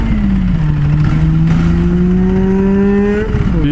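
A Ducati Multistrada 1200 motorcycle on a Seattle ride revs loud and close, its engine note climbing steadily over a few seconds under continuous roaring exhaust.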